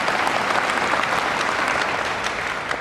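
A live audience at an evening event with Richard Dawkins and Sam Harris applauds steadily throughout, a dense continuous wash of clapping at even loudness, with no one speaking.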